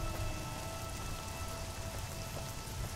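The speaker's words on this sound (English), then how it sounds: "And it's raining again." Video game rain in Fallout: New Vegas patters continuously, a dense even hiss of drops falling on surfaces with no voices over it.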